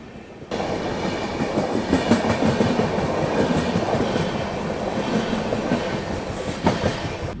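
An AC express train rolls along the rails on the approach to Lonavala railway station, a steady rumbling clatter of wheels and wagons that starts abruptly after a brief quiet moment and holds loud and close throughout.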